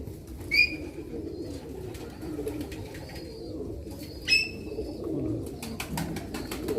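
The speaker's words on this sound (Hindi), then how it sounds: "میں تو پہلی مرتبہ ہی دیکھ رہا ہوں ایسے کبوتر. یہ کبوتر ہیں" Pigeons at a place where many kinds of animals are kept give a few short calls, two louder ones standing out over a steady low rumble of background noise, with no talking.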